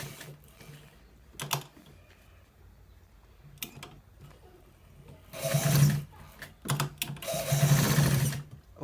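A sewing machine stitches a V-neck in short bursts of fast mechanical whirring with rattling strokes, separated by pauses and light handling clicks.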